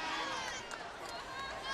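A volleyball arena crowd at the 2006 Penn State vs Hofstra tournament match makes a steady, diffuse roar of chatter and cheering that sounds distant, with voices blended in.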